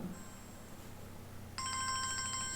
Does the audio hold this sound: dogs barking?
no